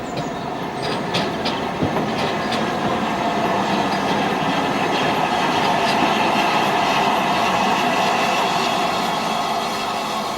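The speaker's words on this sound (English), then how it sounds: "Another stalwart is 8F48305. Built at Crewe in 1943, the loco is currently owned by Roger Hibbert" BR 8F steam locomotive 48305, built at Crewe in 1943, runs on a railway with a continuous loud rumble and rolling wheel clatter, plus a faint squeal and scattered clanks along the way.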